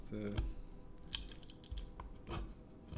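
Scissors make a few quick snips while trimming the corners of a sheet of paper used for calligraphy, sharp and close, with someone talking around the cuts.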